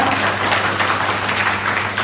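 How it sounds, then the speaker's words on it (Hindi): Continuous applause from a group of people at a fire safety and first aid training session, loud and close, with dense overlapping claps held steadily throughout. "ताली कर बजाने का।"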